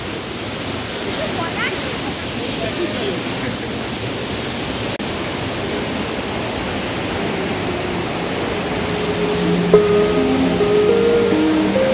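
Cold water pours down Kanchenjunga Falls near Pelling in a continuous, loud, even rush of falling water with no break.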